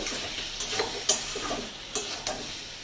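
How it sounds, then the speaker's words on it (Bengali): Posto and plantain curry being fried and stirred in a pan, with a soft steady sizzle and a few sharp scrapes and clicks of the spoon at irregular moments, no voices. "এটা ভালো করে কষিয়ে নিতে হবে।"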